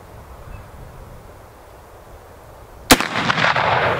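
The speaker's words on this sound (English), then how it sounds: "We can only fit with this button mag three rounds of these 5110s. So we've got to make every shot count." A single loud, close rifle shot from a .50-110 rifle cracks out after a quiet outdoor lull, followed by a rolling, echoing boom that lingers to the end.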